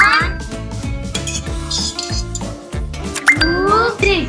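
Oil spooned into a bowl of dora cake batter, the metal spoon clinking against the rim in a quick, regular series of bright taps, with a voice speaking over them.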